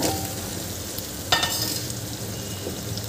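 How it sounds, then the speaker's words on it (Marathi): Chopped raw papaya hitting softened tomatoes in a hot pan, a steady loud sizzle with one sharp splash-like burst as the pieces drop in, then continued frying noise. "आता यामध्ये आपल्याला बारीक चिरून घेतलेले पपईचे तुकडे घालायचे आहे"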